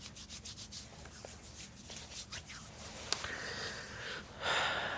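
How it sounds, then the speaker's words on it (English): Lotion is rubbed between hands in soft, close, repeated swishing strokes, with a faint gentle texture and a brief louder rub near the end. "I'll rub the rest into my hands."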